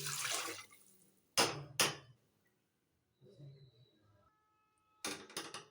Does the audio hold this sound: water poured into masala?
yes